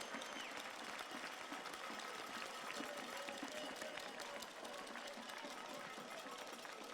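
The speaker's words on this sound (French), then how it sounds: "Et on peut les applaudir, ces jeunes femmes et ces jeunes hommes, qui ont vraiment donné d'eux-mêmes." Continuous applause from an audience at the Bocuse d'Or 2015 prize-giving ceremony, a steady dense wash of clapping that carries at an even level from start to finish, with no pauses.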